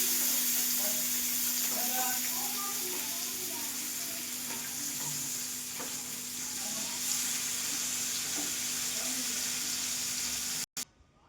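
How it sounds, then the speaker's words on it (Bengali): Pabda fish sizzling in hot oil in a pan, a steady close frying hiss with small crackles and pops throughout, then a brief clatter near the end, with no voices. "এরপরে আমি এই বাকি মাছগুলো আবার ভেজে নেবো"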